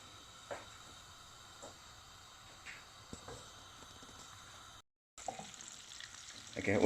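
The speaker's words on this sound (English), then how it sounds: "first we put the butter in the pan, add the cardamom" Butter with cardamom pods sizzling in a pan, a faint low crackle with a few soft clicks, briefly cutting out before a louder burst of sizzle near the end.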